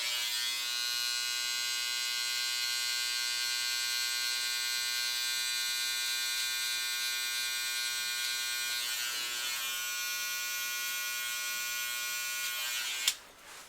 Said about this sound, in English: I'm going in with the trimmer one more time